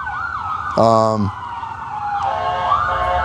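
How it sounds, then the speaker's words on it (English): Emergency sirens wail loudly and continuously, rising and falling, heard from a home garden, with a brief burst of another tone mixed in partway through. "You hear all the sirens and the motorcycles and everything else."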